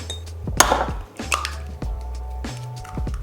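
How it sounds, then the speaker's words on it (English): Eggs cracked against a bowl rim for pistachio cake batter in a home kitchen: a sharp close tap, then a second softer knock, with faint clinks of dishes and low kitchen hum, no talking. "I'm just gonna crack the eggs and add those in as well"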